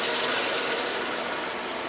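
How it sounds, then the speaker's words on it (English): Water pours steadily into a pot of roasted lobster and crab bones, a continuous close rushing splash that holds at an even level throughout, with no voices. "I'm going to go ahead and add a quart"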